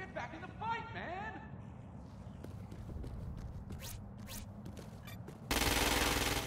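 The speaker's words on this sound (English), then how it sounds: "Use precision targeting to shoot the freak's head or legs." Gunfire sounds in the video game Crackdown 2: scattered sharp shots and clatter over a noisy game backdrop, ending in a loud sustained burst of fire, with a voice and creature-like calls early on.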